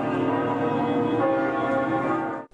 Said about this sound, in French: les 10 cloches du grand solennel de la cathédrale